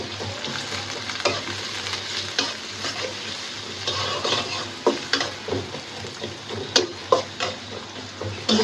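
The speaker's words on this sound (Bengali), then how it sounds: "সুন্দর করে পেস্টটা ভাজা ভাজা হোক" Spice paste fries in hot oil in a kadai for tilapia fish bhuna, giving a continuous close sizzle broken by repeated scraping stirs and occasional sharp spatters.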